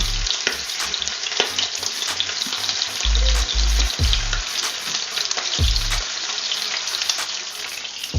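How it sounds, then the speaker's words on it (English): Mackerel fries in hot oil in a pan, a loud dense crackling sizzle that runs throughout with a few heavier bursts and pops, heard close up with no talking. "My mom used to say, once the oil is quieter, that means the underside of the fish is now cooked"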